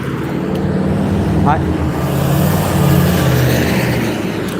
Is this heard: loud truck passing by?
yes